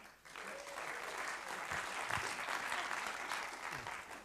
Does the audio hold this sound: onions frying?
no